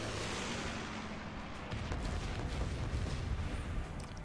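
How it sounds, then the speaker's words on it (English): A bombing run artillery strike in the game Guns Up!, a continuous dense rumble of distant blasts and booms, steady and moderately loud throughout, no voices. "Let's use the bombing run"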